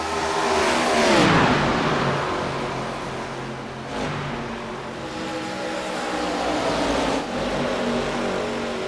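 ARCA stock cars racing at EchoPark Atlanta, a loud pack of engines roaring past in single file down the back straightaway into turn 3, each pass sweeping down in pitch amid continuous engine drone.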